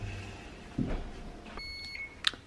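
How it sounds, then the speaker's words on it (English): A kitchen timer beeps faintly a few times in a home kitchen during holiday baking, high and thin amid quiet room noise and small clatter. "our kitchen timer just went off"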